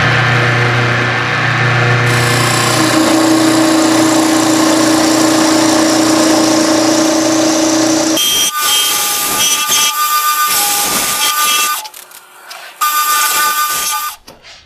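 A wood lathe turns down a woodturned box blank to dowel size, giving a steady, loud whirring hum with tool-on-wood scraping; the tone shifts partway through and briefly drops out near the end.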